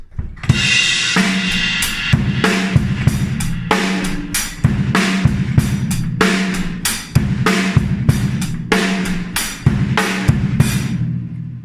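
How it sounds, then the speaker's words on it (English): The main groove of a song on a drum kit, bass drum on one and snare on two beneath steady hi-hat quavers, loud and full with a washy, continuous cymbal sheen and repeating accents. "Bass drum on 1, snare drum on 2, with hi-hats doing quavers"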